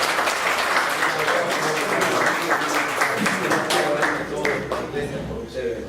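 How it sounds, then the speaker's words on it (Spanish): Applause fills a church service, dense and steady for several seconds from a congregation clapping together, and it thins slightly toward the end. "Un aplauso al Señor."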